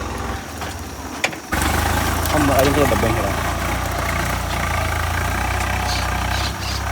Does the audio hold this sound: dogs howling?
no